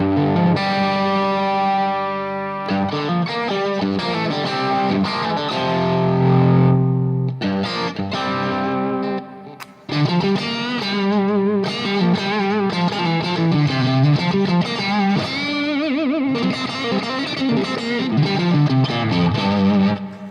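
An electric guitar plays through a mini head amp with reduced gain, a moderately overdriven tone, mixing sustained chords and melodic lead lines, with a brief pause midway.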